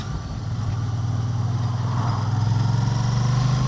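A Royal Enfield Shotgun 650 motorcycle being ridden while it is run in, its engine a steady, close, loud low drone that holds an even rhythm and rises slightly in pitch, with no talk.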